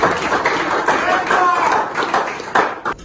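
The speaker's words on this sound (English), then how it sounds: "Give yourself a clap." A small group claps briefly, a short burst of scattered applause that fades near the end.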